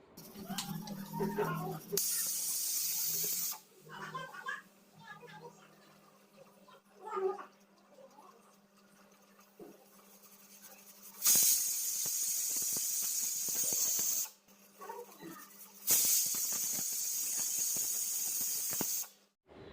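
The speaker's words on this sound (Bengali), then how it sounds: "সিটিটা আটকে তোমাদের শুনিয়ে দিচ্ছি কটা সিটি পড়লো" A pressure cooker with chicken curry inside lets out three long, loud bursts of hissing steam. Between them, quieter bubbling and rattling come from the pot.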